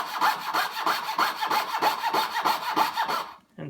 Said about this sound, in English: the blade of the coping saw